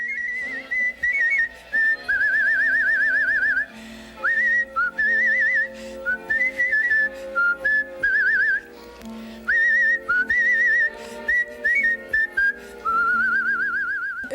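A man whistles a tune alone, clear and close, with bright sustained notes and short gliding phrases broken by brief pauses.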